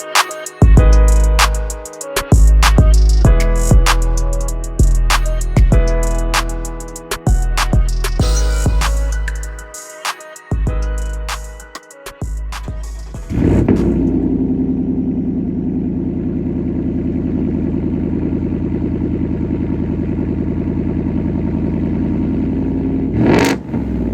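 A car fitted with a Borla Atak exhaust drives along, its engine revving in a series of sharp rising pulls and clattering gear changes, then settling into a steady low droning cruise with no talking.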